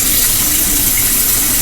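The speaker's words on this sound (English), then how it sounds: "I'm just letting my water get hot so I can wash a few dishes as well." A kitchen tap runs steadily into a sink as water heats up for washing dishes, a loud, constant close-up rush with no talk.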